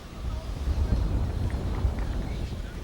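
Strong wind gusting across an open rugby field during a 2002 West Coast v NZ Marist sevens shield final, a continuous low buffeting rumble on the microphone that swells and eases without a break.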